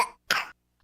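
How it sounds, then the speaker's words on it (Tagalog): A child gives two short, close coughs separated by a brief pause, the second harsher and longer, with silence after. "Ubo ng anak."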